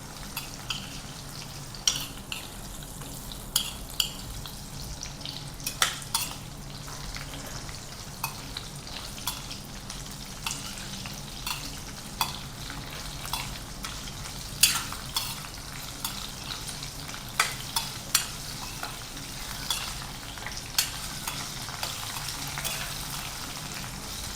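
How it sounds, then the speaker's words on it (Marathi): Raw mango pieces fry in oil in a pan while being stirred, giving a steady hiss and sizzle punctuated by regular spoon knocks and scrapes against the pan, close up. "कैरीच्या फोडी त्या छान यामध्ये फ्राय करून घ्यायच्या आहेत।"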